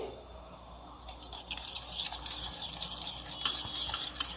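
Egg batter with gram flour, garam masala and baking soda being beaten in a bowl, a soft continuous scraping and whisking that grows a little busier after the first second, with no voices.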